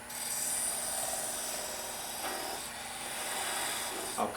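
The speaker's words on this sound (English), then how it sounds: "I take my 1/2 inch spindle gouge and I do this." Wood on a lathe is cut with a 1/2 inch spindle gouge while turning a Christmas globe ornament, giving a steady, soft rasping scrape over a constant motor whine, with a brief louder scrape at the end.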